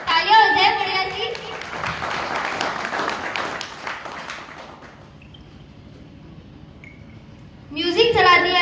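Audience applause at an IMC stage event, a dense wash of clapping lasting about five seconds before fading out, bracketed by a presenter's voice speaking before and after.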